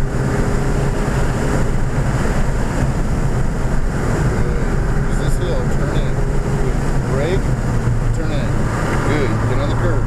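An Audi accelerates hard around the VIR race track during a high-performance driving session, its engine a loud steady drone with road and wind noise, while an instructor's voice talks over it throughout.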